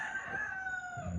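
A backyard rooster crows once in a garden setting, a drawn-out tonal call that slowly falls in pitch, fairly faint and heard alone.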